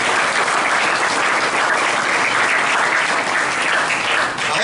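Sustained audience applause at a closing ceremony for a Perak state scouting JOTA-JOTI event, dense and steady throughout before tapering slightly at the very end.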